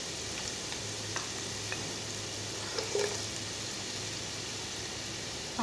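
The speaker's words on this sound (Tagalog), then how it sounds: "Saka po ipiprito ng bahagya yung carrots." Sliced carrots fry briefly in a hot pan for kabuli pulao, giving a steady, close hiss of sizzling oil with faint stirring clinks.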